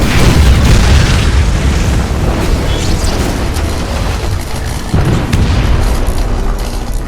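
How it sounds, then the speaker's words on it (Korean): Explosion in a chemical plant process caused by accumulated static electricity: a loud sustained boom with rumbling, broadband roar lasting several seconds, with a fresh burst partway through. "결국 누적된 정전기가 폭발로 이어지게 됩니다"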